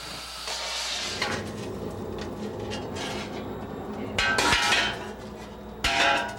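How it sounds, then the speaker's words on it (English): Master armourer hammering a steel breastplate in a workshop, with a steady metallic clatter and two louder bursts of ringing blows near the end. "And master armourer Immerse is going to make a breastplate using their technique."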